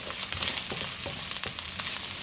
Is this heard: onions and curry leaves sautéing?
yes